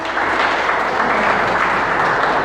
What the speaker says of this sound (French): Encore un grand applaudissement pour cette présentation.